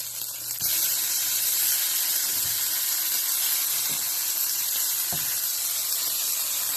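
Liver mush frying in a hot pan, a steady broad sizzle and hiss that starts abruptly and holds, with a few soft clicks and bumps from the pan.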